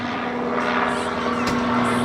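A gyroplane with a freewheeling rotor flies at an air show, giving a steady droning engine and propeller hum with a sustained tonal whine. It holds at a loud, even level throughout while a voice comments over it.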